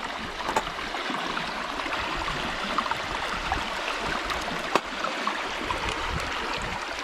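Water runs continuously through a gold sluice at a stream in the UK, a steady rushing and gurgling wash with no voices.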